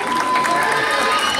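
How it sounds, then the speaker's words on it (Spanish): A crowd at a gendarmerie canine unit demonstration breaks into steady applause and cheering, dense and continuous, with voices mixed into the noise. "un aplauso para ella"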